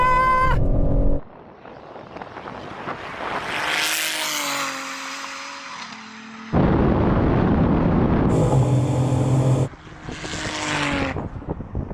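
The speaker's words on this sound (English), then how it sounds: "This time, the BMW takes off strong while the Supra struggles for grip." A BMW M3 and a 700 hp Toyota Supra launch side by side in a drag race, loud engine roars and revs surging in bursts with abrupt cutoffs between them, no talking.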